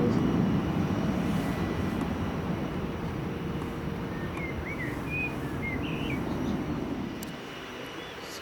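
An airplane taking off at Manchester Airport makes a loud, steady jet roar that slowly fades as it climbs away, with faint bird chirps in the background.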